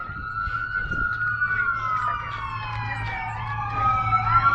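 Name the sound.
siren of emergency vehicle near a hospital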